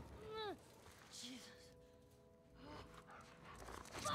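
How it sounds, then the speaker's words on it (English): A dog in The Last of Us Part II pants and lets out short barks and whimpers, fairly faint behind game ambience, with voices speaking around it. "A fucking dog!"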